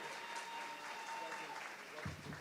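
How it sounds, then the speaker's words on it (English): Steady applause from a large graduation commencement audience fills the whole stretch, dense and continuous clapping with a faint murmur underneath. "Please, a quick round of applause for all the business and technology graduates."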